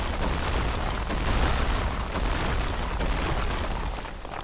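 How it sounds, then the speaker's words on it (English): Bombs bursting as they are broken in the Dark Souls Remastered video game, a dense, sustained roar of rumbling explosions filling the whole stretch with no speech. "And we can break all the bombs."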